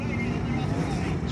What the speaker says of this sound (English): You can hear the engines roar.